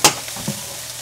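Food is stir-fried in a pan for seafood fried rice, giving a steady close sizzle with a few scraping stirs and clinks of the utensil, with no talk.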